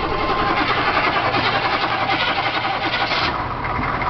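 A 6.2-litre diesel Chevrolet Suburban engine runs with a rough, rumbling clatter, steady and close, turning over and idling unevenly; the battery is weak and the engine leaks oil.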